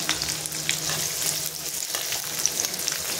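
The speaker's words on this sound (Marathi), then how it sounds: "तेल गरम झालेले आहे, त्याच्यामध्ये उभी चिरलेल्या 2 मिरच्या टाकून घेते, बारीक चिरलेले लसूण, उभा चिरून घेतलेला कांदा टाकून घ्यायचा आहे।" Sliced green chillies, chopped garlic and sliced onion sizzle steadily in hot oil, a dense close crackle with occasional sharper pops and no voices.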